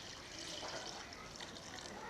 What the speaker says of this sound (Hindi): एक गिलास पानी शामिल कर लेंगे।